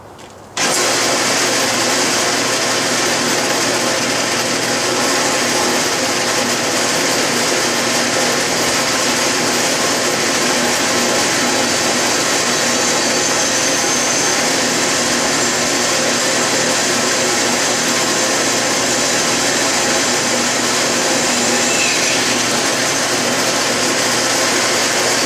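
A loud, steady power drill grinds continuously through metal for the whole stretch, a harsh, even whine with no pauses and no voices.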